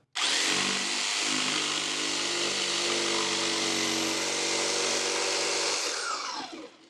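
Power saw blade cutting a tight curve through wood during an RV bench seat remodel, a loud steady high-pitched whine running continuously for about six seconds before winding down.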